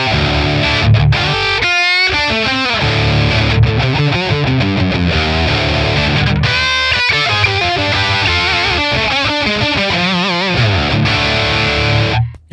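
High-gain electric guitar played through a Marshall amp capture on a Tonex, loud and heavily distorted, with chugging riffs and sustained lead notes running continuously.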